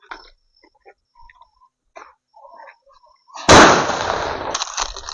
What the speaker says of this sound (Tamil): அடுத்து இந்த பெரிய சைஸ் லட்சுமி வெடி வைக்கலாம் வாங்க.